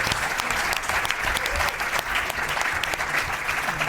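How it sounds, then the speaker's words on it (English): An audience claps for the debaters after a debate on Greek identity and Orthodoxy, a loud, sustained round of dense applause filling the room. "Give them a huge round of applause."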